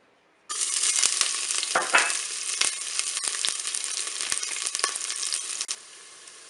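Shallots hit the hot base of a preheated Cookeo multicooker and sizzle loudly and steadily for about five seconds, with a few scrapes of stirring, before the sound cuts off abruptly.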